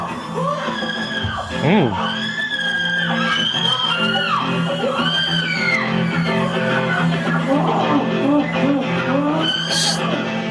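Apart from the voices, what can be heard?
horrible screaming in a played recording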